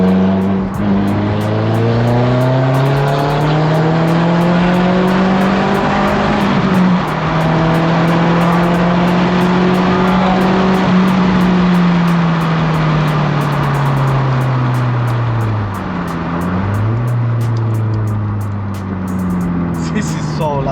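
Very loud exhaust of an Audi S3 8L 210 APY being driven hard, rising and falling revs with gear changes across the run, a constant rasping roar filling the whole stretch, with a voice briefly heard underneath.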